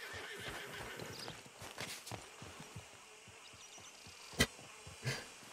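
A horse in Red Dead Redemption 2 whinnies amid steady clip-clopping hooves, with a sharper snort or neigh near the end; the hoofbeats run as a quiet, continuous walking rhythm.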